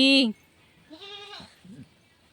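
A goat lets out one loud, short bleat, followed by quieter voices talking nearby.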